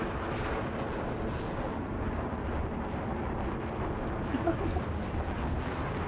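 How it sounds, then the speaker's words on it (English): Video-game gunfire and explosions on the Golmud map, a dense, muffled rumble of distant battle that stays at a continuous low level with no distinct shots standing out. "Oh yeah, he's shooting me."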